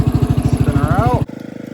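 A Power King garden tractor engine strains while pulling 3,000 pounds of topsoil, giving a loud, steady rhythmic chugging that abruptly drops to a lighter, quieter idle near the end.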